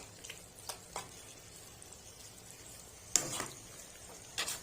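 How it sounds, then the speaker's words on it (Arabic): Cuttlefish being stirred with spices in a pan gives a faint, low sizzle with a few sharp scrapes and taps of a spoon against the metal, spaced irregularly. "ندي بقى للسبيت بتاعنا كده مع التسبيكه الجميله ديت تقليبه كده مع البهارات"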